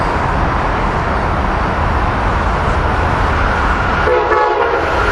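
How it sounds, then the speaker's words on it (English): An Amtrak Silver Meteor passenger train, train 97 headed south with a Heritage dining car, rumbling loudly past up close, its horn sounding near the end. "Here we got an Amtrak train coming down."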